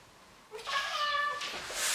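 A house cat lets out one drawn-out, fairly loud meow lasting over a second, close to the microphone, with a quieter background before and after.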